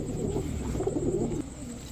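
Pairs of pet pigeons coo close by in soft, low, throaty rolling calls over a faint steady background hum.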